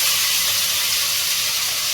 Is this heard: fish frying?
yes